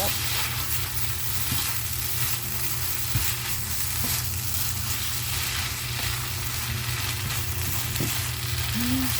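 Spicy stir-fried noodles with fresh chili sizzling in a pan, a dense continuous frying hiss with occasional faint stirring knocks, close and steady.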